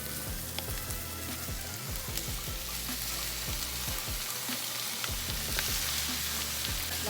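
Ground pork sizzles loudly and steadily in a pan, with a continuous dense crackle and repeated scraping stirs throughout.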